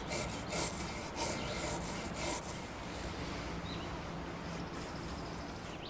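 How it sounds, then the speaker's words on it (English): A fine brass brush scrubs old finish off a wooden vintage sideboard, with close, rhythmic rasping strokes at first, then fading into a steady, fainter rubbing noise. "A fine brass brush can help remove the excess from the areas that are hard to reach with a scraper."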